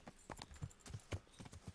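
Horse hooves clip-clopping at a steady riding gait in the medieval game Kingdom Come Deliverance, quiet, regular thuds of about three strides per second on a dirt road.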